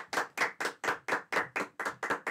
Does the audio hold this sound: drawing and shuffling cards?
no